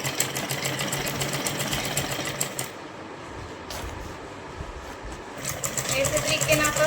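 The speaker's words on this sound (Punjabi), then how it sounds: "ਥੈਲੇ ਨੂੰ ਇੱਥੇ ਸਿਉਂ ਲਾਂਗੇ ਆਪਾਂ" Sewing machine stitching a bag made from an old towel, a fast steady mechanical whir that pauses briefly midway then resumes, close and fairly loud.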